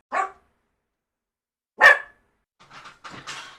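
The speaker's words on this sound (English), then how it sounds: "While I talk, you may hear growling." A small dog indoors gives a few sharp, close barks separated by pauses, followed by softer growling and whimpering sounds.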